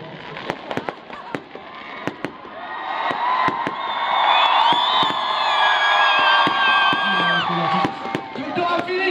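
Fireworks and firecrackers go off at an outdoor live concert show in Hautmont: sharp bangs and crackles burst over a rising whistling fizz, with a crowd murmuring and calling out underneath.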